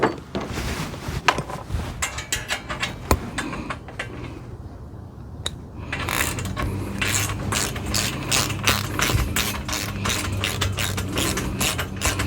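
A ratchet wrench tightens a nut on a metal sheep feeder, clicking in rapid bursts of close, sharp ratcheting, with a brief pause partway before the strokes resume more densely.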